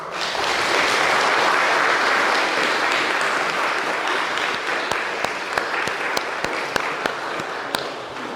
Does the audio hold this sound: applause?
yes